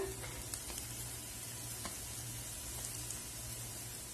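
Thinly sliced large onions sauté in oil for a Kerala-style black chickpea curry, making a soft, even, fairly faint sizzle that runs unbroken, with a few light stirring touches and no voices.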